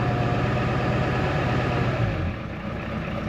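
A Honda quad's engine idles steadily after sitting unused for ten days, a close, continuous low mechanical chug that eases slightly toward the end, with no voices.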